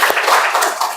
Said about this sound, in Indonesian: tepuk tangan dulu buat kelompok 3 ya.